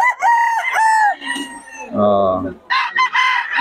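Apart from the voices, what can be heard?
young rooster (stag) crowing at a market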